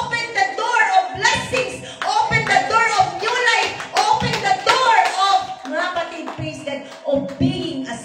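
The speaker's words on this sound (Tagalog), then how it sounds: "Clap your hands, clap your hands." A church congregation claps hands together during a worship service, rhythmic bursts of clapping with voices and talk mixed in throughout.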